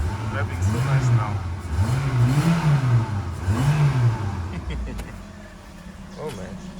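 A Toyota Ractis with a freshly rebuilt 2SZ-FE engine drives at a steady pace, its engine droning and rising and falling with the throttle, heard from inside the car while someone talks.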